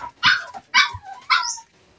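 A dog barks three times in sharp, close yips spaced evenly apart, the last one trailing into a whimpering tone.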